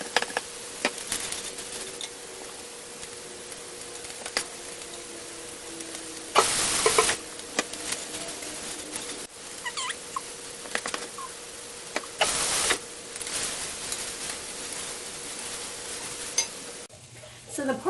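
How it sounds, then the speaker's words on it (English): Chopped Portuguese sausage, shallots and garlic sizzle steadily in a pan, a continuous close hiss broken by a few brief bursts of louder frying noise and occasional light ticks of utensils. "the Portuguese sausage, the shallots, and the garlic have been cooking down for about 5 to 6 minutes now"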